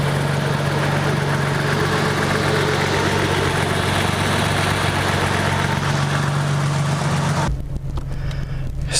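A Toyota Supra engine idles with a steady, loud low hum and rattly vibration, then cuts off abruptly near the end, leaving quiet background.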